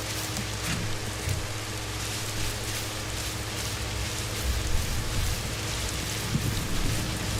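Steady night rain falls in a soft, continuous hiss with a low rumble underneath, holding an even level throughout with no voices.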